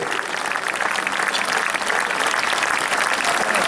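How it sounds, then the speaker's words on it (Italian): Dense, steady applause from a dance-evening audience at an Omar Codazzi orchestra night in Fratte di Santa Giustina in Colle, honouring the kitchen workers. The clapping is loud and continuous for the whole stretch, with no voices on top. "Io farei un grande applauso a tutti questi grandi lavoratori"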